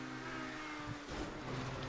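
A race car engine revs hard in a GTA V Online stunt race, a loud, continuous mid-pitched drone that shifts and climbs briefly, with no talk.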